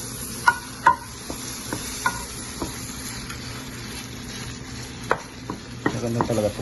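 Pork fries in a wok with a steady sizzle while a utensil stirs and scrapes, giving several sharp clanks against the pan, close and fairly loud.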